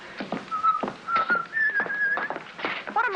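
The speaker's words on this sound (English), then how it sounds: "What am I doing? Whistling backstage." A person whistles a melodic tune backstage, phrases of clear tones broken up by soft footsteps and rustling, fairly close and with no speech.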